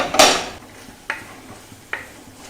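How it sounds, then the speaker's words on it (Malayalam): Butter garlic mushrooms are stirred in a pan with three separate metallic scrapes and clinks of a utensil against the pan, spaced under a second apart, close and alone. "അതിങ്ങനെ ഇളക്കി കൊടുക്കുക. മുടിയൊന്ന് പൊക്കി ഇളക്കി കൊടുക്കുക."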